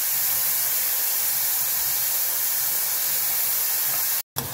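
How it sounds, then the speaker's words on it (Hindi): Spice masala of turmeric, black pepper and cumin powder frying in oil, giving a steady, even sizzling hiss throughout with no talking. "इन सभी को एक साथ डाल के भूनूंगी।"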